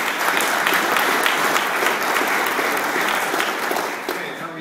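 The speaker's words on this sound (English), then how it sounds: "Let's give them a round of applause" An audience at a public drainage projects meeting applauds in a steady, dense burst of clapping that fades slightly toward the end.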